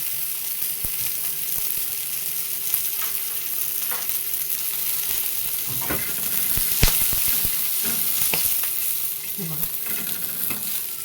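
Green chillies and garlic frying in oil for a Maharashtrian kharda chutney, a steady dense sizzle throughout with scattered spatula scrapes and clicks from stirring, close and even, with no voices.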